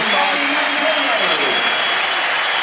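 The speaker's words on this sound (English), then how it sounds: "here's the applause for the departing big man" A rugby crowd at Leicester's home match against London Irish applauds a departing big forward, steady and loud throughout, with a commentator's voice running over the clapping.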